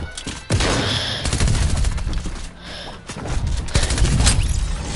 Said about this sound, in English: I usually use my machine pistol